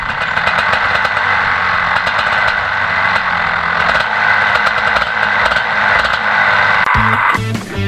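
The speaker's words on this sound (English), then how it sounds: "So just giving the engine a little rev just to try give the engine some temperature before we go out" A racing kart engine being revved to warm it up before heading out, loud and close with a buzzing, fluctuating drone that keeps rising and dipping, then cuts sharply near the end.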